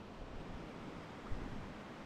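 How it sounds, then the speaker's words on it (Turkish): A blue river flowing beside a trail in Patagonia gives a steady, broad rushing wash of water, soft and continuous throughout with no talking. "Hemen yanı başımızda muhteşem suyuyla akan mavi nehir."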